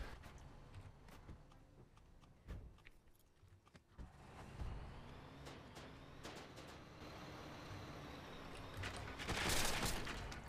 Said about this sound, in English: Tank's driving right past me